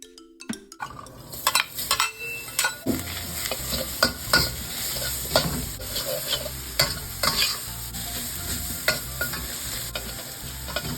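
Continuous sizzling of salted fish, minced chicken, chili, scallion and garlic in a hot wok, punctuated by repeated scraping and clanking of a spatula as the food is stirred and tossed.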